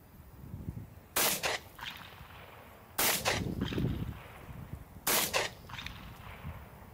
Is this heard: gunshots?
yes